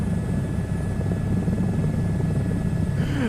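A helicopter in Microsoft Flight Simulator 2024 flying near its never-exceed speed: a steady, loud rotor and engine drone that holds unbroken throughout, with no talk over it.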